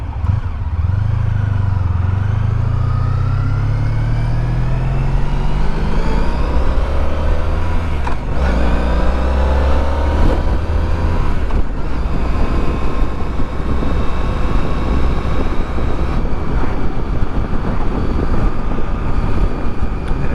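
A Honda ST1300 touring motorcycle, about twenty years old, rides twisty roads, its engine droning steadily with low pitch sweeps as it shifts and rolls on and off the throttle, heavy wind rush throughout, no talking.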